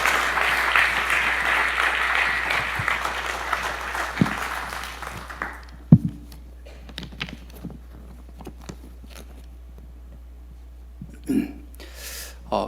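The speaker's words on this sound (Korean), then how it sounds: "우리 박수로 한번 크게 환영해 주시면 좋겠습니다." A church congregation at a Wednesday prayer service claps loudly to welcome the pastor to the front, a full burst of applause for several seconds that stops abruptly, followed by quiet room sounds and scattered small knocks.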